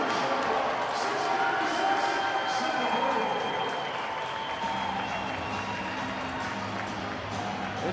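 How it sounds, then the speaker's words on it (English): A hockey crowd inside the Adirondack Bank Center roars and applauds during a fight, a loud, dense wash of cheering and clapping that eases slightly toward the end, with an announcer talking over it. "as the crowd erupts inside the Adirondack Bank Center"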